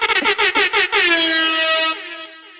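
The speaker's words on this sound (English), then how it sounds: "JJ, drop some air horns right here." An air horn sound effect fires a rapid string of short staccato blasts and then one long sustained blare, loud and up front with no talk over it.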